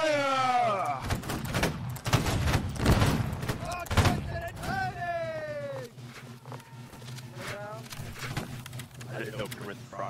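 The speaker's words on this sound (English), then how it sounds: "Make ready, take aim, fire!" Napoleonic line infantry fire a musket volley in Holdfast: Nations at War, a burst of loud, overlapping cracks in the middle, with shouted orders and voices before and after.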